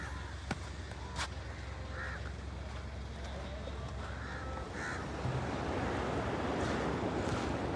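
Calm sea waves wash onto a hot seaside shore, a low rushing murmur that swells louder toward the end, while crows caw repeatedly nearby.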